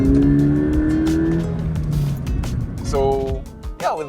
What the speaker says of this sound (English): it's really a dream come true for me to finally drive here the Hakone Turnpike with the Toyota 86